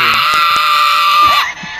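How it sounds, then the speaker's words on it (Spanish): A loud, sustained high-pitched war cry scream from a character in Fortnite, strained and wavering for over a second before cutting off abruptly, with game sounds around it. "¡Grito de guerra!"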